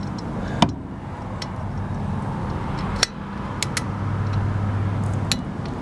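Steady broadband road noise of cars passing along a nearby street, a continuous low rush with a few sharp metallic clicks and taps over it.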